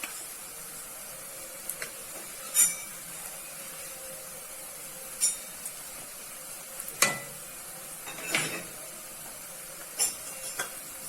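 Food fries in a pan with a low, constant sizzle, punctuated every couple of seconds by sharp clatters and scraping knocks of a utensil stirring against the pan.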